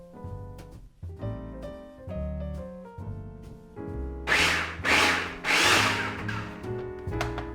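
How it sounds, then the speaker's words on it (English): A food processor blitzes vegan snack dough, its motor whirring in stepped pitches with stops and restarts, and loud gritty churning bursts in the middle, with no talk. "Blitz everything together for a good while until you have a nice dough-like consistency."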